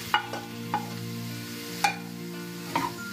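Bell peppers and green onion being stir-fried in a pan, a tonal hum under a light sizzle, punctuated by four sharp spatula knocks against the pan, no voices.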